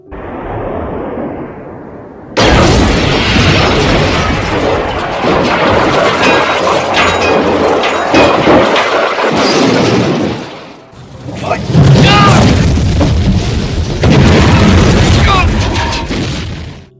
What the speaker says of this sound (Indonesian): mobil detektif terguling dan meledak yang menyebabkan bawahannya tewas